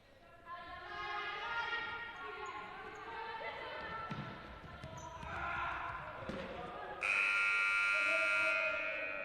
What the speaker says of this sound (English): Buzzer sounds to signal the timeout